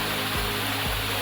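A waterfall at Vagamon, Kerala roars as a loud, steady broadband wash with no pauses, close and continuous across the short clip.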